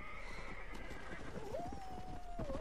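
A horse in the video game Red Dead Redemption lets out a clear, wavering whinny over quick hoofbeats and game ambience, close and fairly loud in the second half.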